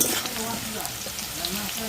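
Potatoes frying in a pan, a constant close sizzle with light stirring scrapes, faint and even throughout.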